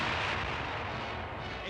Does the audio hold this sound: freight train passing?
no